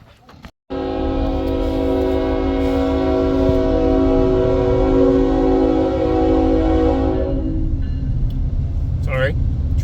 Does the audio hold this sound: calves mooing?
no